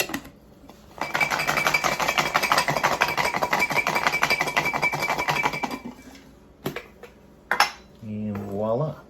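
Garlic cloves rattle hard inside a small shaker for about five seconds of loud, continuous clattering to peel them, followed by a few scattered clinks and then a voice.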